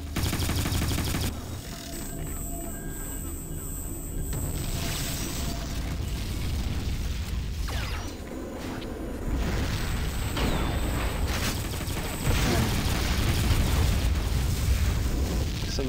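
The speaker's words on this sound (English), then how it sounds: "Some nice mortar spam from Haggis" Mortar blasts and weapon fire from the video game Tribes 2 rumble through a dense, continuous barrage of booms and crackling shots, loud and layered with no pauses across the stretch.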